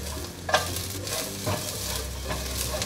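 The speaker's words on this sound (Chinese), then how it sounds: "把糯米椒的水分炒干一点" Glutinous rice peppers, shiitake mushrooms and red dates being stir-fried in a wok, with a steady sizzle and a few scraping tosses of the spatula, close and with no voices.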